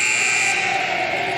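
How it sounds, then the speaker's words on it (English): A sustained electronic end-of-period buzzer sounds at a women's ice hockey game, Italy against Norway, in a preliminary-round match at the 2023 championships in Moose Jaw. It holds one steady, loud tone throughout, with arena noise underneath. "the buzzer went first"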